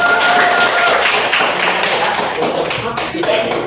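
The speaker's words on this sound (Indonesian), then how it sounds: "Tepuk tangan dulu coba." A group claps their hands together in a dense, steady burst of applause, loud and close, lasting several seconds.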